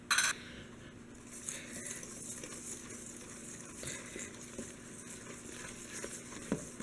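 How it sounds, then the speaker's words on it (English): Pumpkin cheesecake muffin batter is stirred in a bowl. Soft, uneven scraping and light clinks of a utensil repeat over a quiet background. "so now we're going to mix this all up"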